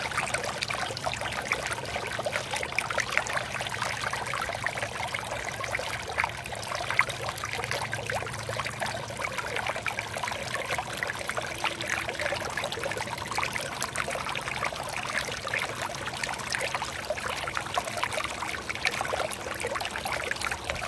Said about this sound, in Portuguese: Relaxem com o barulhinho da água.